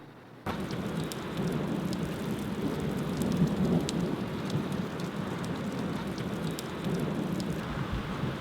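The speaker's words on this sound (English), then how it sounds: "So we're currently having a pretty big thunderstorm." A big summer thunderstorm with steady, heavy rain drumming loudly and continuously on surfaces, rolling thunder mixed in, heard alone without talk and starting abruptly after a brief quiet moment.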